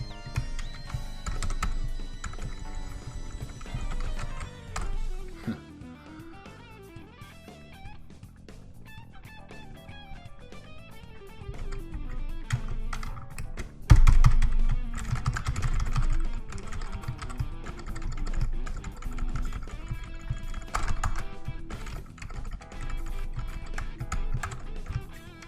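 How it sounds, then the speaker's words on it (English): Computer keyboard keys pressed repeatedly in irregular bursts while a Vectrex emulator is played, with clicks running close and steady for about 25 seconds over game sounds, including a louder stretch midway. "It's hard to play with the keyboard, actually."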